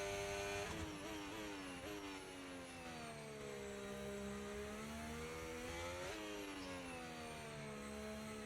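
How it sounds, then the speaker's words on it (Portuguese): A Formula 1 car engine in the F1 25 video game screams at high revs, with rising and falling pitch through upshifts and downshifts, loud and continuous with no talk. "gostei muito do som do carro"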